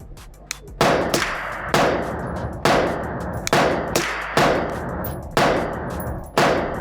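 A 9mm CMMG pistol-caliber carbine fires at steel targets outdoors: seven sharp, loud reports at a steady pace about a second apart, each with a ringing decay, and no talking.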